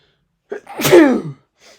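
A single loud, close sneeze from an allergy, with a short sharp intake followed by the burst and a faint trailing breath.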